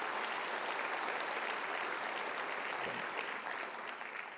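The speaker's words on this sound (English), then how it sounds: "So big round of applause for all of you that have already initiated and made that happen." Steady applause from a conference audience at a summer climate gathering, a dense wash of many hands clapping evenly throughout and tapering slightly at the end.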